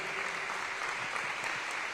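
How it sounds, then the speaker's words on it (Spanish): Steady applause from a church congregation, dense and continuous throughout, with no voices standing out. "Denle un aplauso al Señor"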